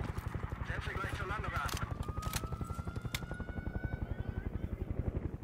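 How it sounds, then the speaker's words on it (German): A helicopter in Call of Duty: Black Ops Cold War thumps with steady rapid rotor beats, fairly faint, with a few sharp cracks and a rising whine on top. "Hey, ich höre den Heli, ich sehe ihn aber nicht."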